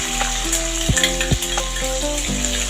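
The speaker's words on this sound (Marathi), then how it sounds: "मग नंतर हिरवी मिरची आणि लसूण ठेचलेली घालायची." Green chili and crushed garlic frying in hot oil with cumin, a continuous close sizzle with occasional louder spits and crackles, no voices.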